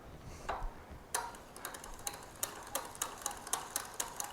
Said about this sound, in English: that was a very nice clean click